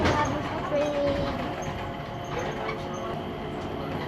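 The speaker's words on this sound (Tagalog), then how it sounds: "ayan na yung train, papasok na siya doon sa Jewel" An airport people-mover train at Changi Airport's Jewel rolls in with a steady rumble and a thin wheel squeal. Station ambience and faint voices sit underneath.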